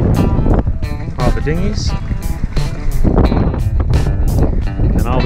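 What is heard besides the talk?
strong wind in anchorage on sailboat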